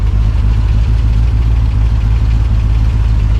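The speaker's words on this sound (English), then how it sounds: "I've had the car sitting here idling for quite a while" A steady, low idle of a home-built supercar engine rumbles continuously and loudly, with an even, unchanging drone and no voices.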